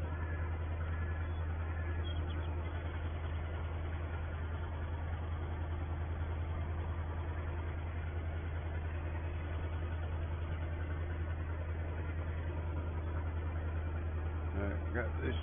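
A farm tractor idles at a constant low, steady drone that holds even and fairly loud from start to finish, with no talk over it.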